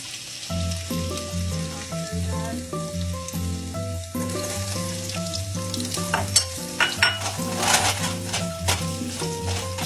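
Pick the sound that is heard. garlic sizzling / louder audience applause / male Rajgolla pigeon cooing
garlic sizzling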